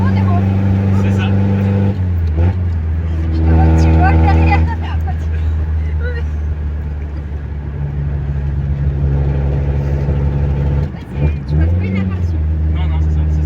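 A 1982 Toyota Cressida driving, with a steady low engine drone and rising and falling harmonic tones as it revs and shifts, under continuous close conversation inside the car.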